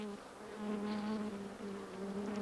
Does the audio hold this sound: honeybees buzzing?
yes